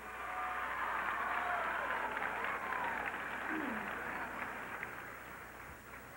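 Audience applause and cheering fill a live serenade concert for the Señor de los Milagros as a singer takes the stage, a steady wash of clapping from a large crowd lasting throughout with faint voices mixed in.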